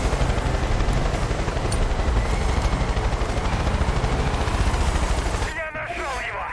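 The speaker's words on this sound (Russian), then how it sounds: "это вертолет" A helicopter in the video game Far Cry 5 produces a loud, dense, continuous rotor roar that fills the scene alone before cutting out near the end.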